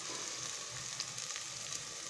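Vegetables sizzling in a pan in a home kitchen while a sauce for berkoukes with dried fava beans is made, a steady close crackle of frying with no talking.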